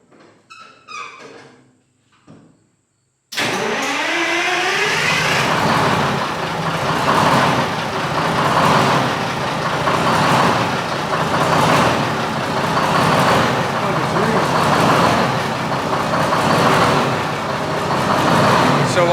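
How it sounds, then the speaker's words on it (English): A 1973 Mack R700 truck with a V8 engine fires up abruptly after a few quiet seconds of voices, then settles into a loud, steady, rumbling idle with a faint rhythmic pulse that runs to the end. "crank the motor a little, well, crank it first, then put covers on"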